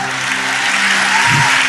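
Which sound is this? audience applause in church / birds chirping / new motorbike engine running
audience applause in church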